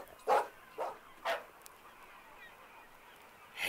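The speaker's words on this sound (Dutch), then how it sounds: "Opeens hoorde hij blaffen." A ship's dog barks three times in quick succession, clear and fairly close, followed by a pause and the start of another bark at the end.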